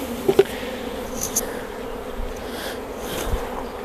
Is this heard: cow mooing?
no